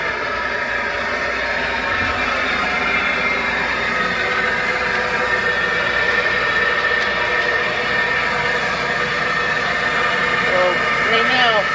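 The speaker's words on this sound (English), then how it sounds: "Blower's a little noisy right now because, like I said, we're venting it off." Air blower at an aquaculture facility venting off excess air, a steady broadband rushing roar with a constant hum, loud and continuous from start to finish, with a voice heard faintly under it.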